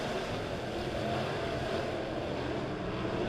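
USRA B-Modified race cars racing on a dirt track at Springfield Raceway, a dense, distant roar of several engines blending into a continuous rumble with no voices.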